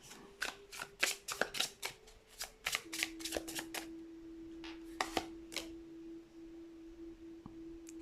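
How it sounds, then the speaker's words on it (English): Tarot cards are shuffled and drawn in quick crisp bursts of riffling and snapping, close and clear, followed by a few sparser card flicks over a faint steady tone. "So let's get some additional cards."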